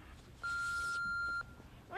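A single steady electronic answering-machine beep lasting about a second, clear and fairly loud against a quiet room background, followed by a faint voice.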